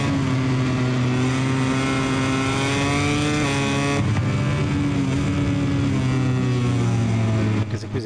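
Motorcycle engine from the MotoGP 21 racing game holding a steady, loud high-revving drone with shifting pitch, a brief dip near the end, continuous throughout.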